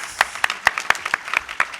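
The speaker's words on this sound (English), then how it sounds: "Can we have a big round of applause, please?" A small audience claps in a steady, brisk rhythm, sharp individual claps close by, no voices over it.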